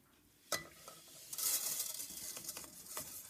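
Golden fried vermicelli noodles for Mexican sopa de fideos tipped into a metal colander to drain oil, a sharp clatter followed by a rustling, sizzling pour and a few small clinks, fairly quiet and close.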